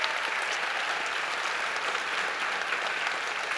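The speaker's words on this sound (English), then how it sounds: "Can we give a huge round of applause to our district for supporting the arts" Audience applause at a high school spring choral concert: dense, steady clapping from a large crowd, sustained and even throughout with no voices standing out.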